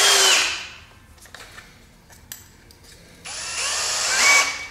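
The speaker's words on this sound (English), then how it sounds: "we're going to put this screw in" A power drill drives a screw into wood during restoration of an 1865 Forster & Andrews pipe organ, two whining bursts from the motor separated by a quiet pause with small handling knocks.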